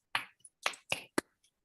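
A handful of sharp, close hand claps land in an uneven sequence, four or five crisp slaps separated by short silences.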